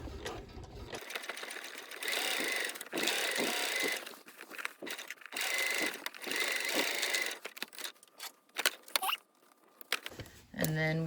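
A sewing machine runs top stitching about an eighth of an inch from a seam line on the back of a garment, humming in several sustained stretches with short stops between them, fairly close.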